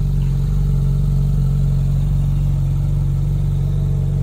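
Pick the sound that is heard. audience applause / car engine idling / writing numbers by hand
car engine idling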